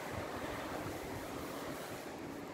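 Ocean surf breaks along a beach as a constant wash of roaring noise, steady and fairly distant, with no voices over it.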